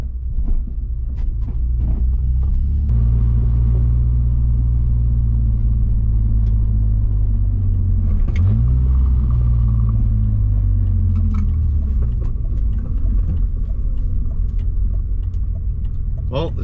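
A BMW E46 drift car fitted with a short shifter drives along with a steady, loud low engine drone, its pitch dropping and climbing through several gear changes.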